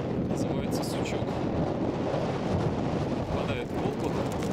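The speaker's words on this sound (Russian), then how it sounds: "Ветер вообще жесть." Strong wind on the Volga riverbank buffets the microphone with a continuous low roaring rumble, loud and unbroken throughout.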